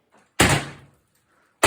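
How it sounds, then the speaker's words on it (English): A police battering ram strikes the front door of a house, giving one heavy slam that rattles briefly and then fades. A second impact starts just as the sound ends, and both hits are loud and close. "law enforcement puts a battering ram to the front door"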